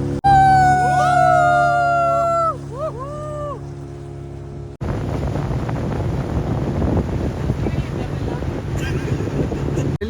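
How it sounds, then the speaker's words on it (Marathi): Slow boat ride on a lake in Ooty: a sustained tonal, melodic sound gives way to steady broadband rush of wind and water with a low motor rumble, continuous and fairly loud. "वीस मिनिटाची बोट राईड आहे एकदम मस्त आरामशीर स्लो आहे"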